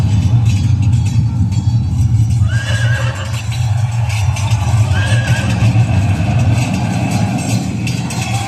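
Horses neighing and whinnying in a recorded light-and-sound show soundtrack at Shaniwarwada fort in Pune, loud over a steady low rumble of music and hoofbeats, with two distinct whinnies standing out near the middle.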